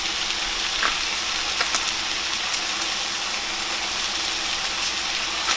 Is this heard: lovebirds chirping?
no